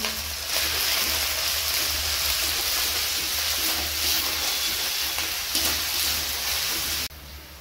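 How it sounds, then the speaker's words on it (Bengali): Cumin paste hitting hot oil in a pan gives a continuous close sizzle with a few louder spatter surges, then drops away abruptly near the end. "রসুন বাটা ভাজা হয়ে গেছে, এরপর আমি জিরা বাটাটা দিয়ে দিচ্ছি।"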